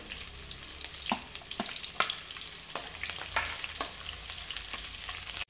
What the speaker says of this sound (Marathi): हे कांदे थोडेसे लालसर होईपर्यंत तेलामध्ये परतून घ्यायचं